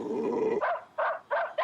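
A cartoon dog gives a low, drawn-out growl, then breaks into three short, sharp barks in quick succession, close and clear.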